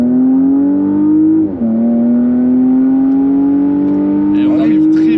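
A Porsche accelerates hard in Sport Plus mode with Sport Response engaged, its engine note climbing steadily in pitch, dipping briefly at a gearshift and then rising again, loud and close from inside the car, with talk over it.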